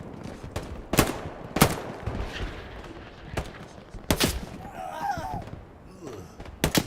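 Gunfire in a competitive first-person shooter match: a handful of sharp, separate shots crack out at irregular intervals over a quiet background, with a brief voice partway through.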